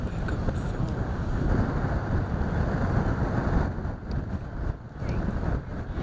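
A strong nor'easter wind roars steadily across Sydenham Park during a club match, a dense rumbling buffet against the microphone that eases briefly before surging again.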